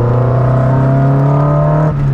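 An Alpine car engine revs up hard with a strong, rising harmonic drone after ignition timing work, loud and close, then it eases off near the end with no talking.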